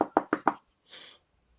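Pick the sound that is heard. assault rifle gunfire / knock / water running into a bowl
knock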